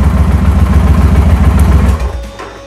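2007 Victory Vegas motorcycle engine idling with a loud, close, rhythmic lumpy throb that cuts off after about two seconds and fades to quiet.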